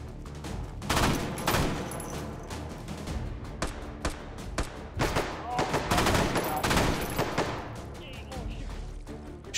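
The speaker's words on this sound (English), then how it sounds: "Shooting at me, huh? Where are you guys shooting from?" Gunfire fills a World War II custom map in the VR shooter Hot Dogs, Horseshoes & Hand Grenades: rapid bursts and fusillades of shots crack nearly without pause, loud and dense, while someone talks over the shooting.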